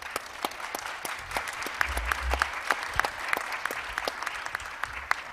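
A round of applause at an international judicial conference on environmental law, a room of people clapping steadily at moderate distance, with sharp individual claps standing out through the whole stretch and no talk over it.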